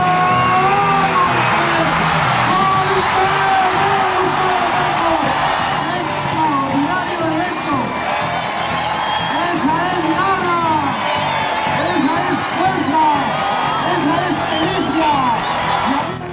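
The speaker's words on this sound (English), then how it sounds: "The crowd went nuts for the Gorilla Mobile." Crowd at a demolition derby cheering and whooping loudly and continuously, a dense wash of shouts throughout, with a voice talking over it.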